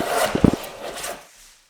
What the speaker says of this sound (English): I wasn't quite finished shaving these boards down